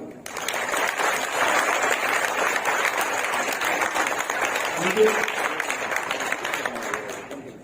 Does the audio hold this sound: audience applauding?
yes